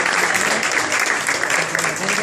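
Crowd applause welcoming home Greek bronze Paralympic medallist Dimitris Bakochristos, a dense, steady clapping wash lasting throughout, with some voices mixed in.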